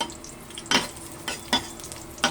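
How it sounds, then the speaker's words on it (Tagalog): Garlic sautés in a hot pan, a steady sizzle broken by three or four sharp scraping strokes of a spoon being stirred through it, close and alone with no talk. "Sutay muna natin ang ating bawang."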